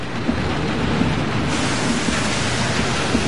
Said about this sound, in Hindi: भयानक तूफान